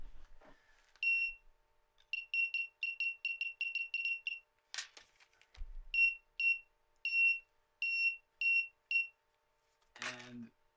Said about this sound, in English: I'm going to try cutting the beam and see if I set off the alarm.